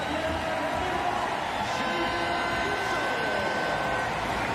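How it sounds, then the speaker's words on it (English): Packed, sold-out crowd at the South Paris Arena for a para table tennis doubles match, a dense, steady roar of cheering and noise throughout, with a commentator's voice faintly underneath. "huge noise and cheers from the crowd, packed, sold out"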